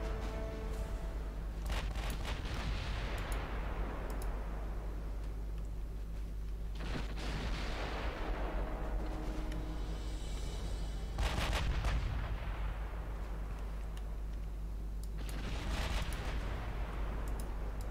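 Naval guns in Ultimate Admiral Dreadnoughts, a warship game, fire heavy booming salvos about every four to five seconds, each blast followed by a long rumbling decay over a constant low engine drone.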